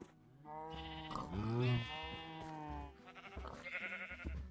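A goat in Minecraft bleats in a few wavering, nasal cries, moderately near, with a faint voice murmuring underneath.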